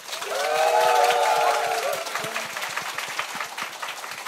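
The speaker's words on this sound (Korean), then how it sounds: "안재규 씨와 권수혜 씨한테 박수 한번 부탁드립니다" Audience applause for two guests at a live Korean talk-show taping: a brief tonal cheer-like sound rises at the start, then steady crowd clapping continues and eases slightly toward the end.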